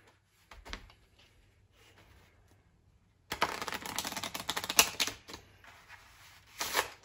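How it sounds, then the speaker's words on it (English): A deck of playing cards is shuffled up close at a magic trick, first a few soft riffles, then a dense burst of fast flapping and clattering, then a final flurry. "I've got a pack of cards. I'm going to give them a shuffle."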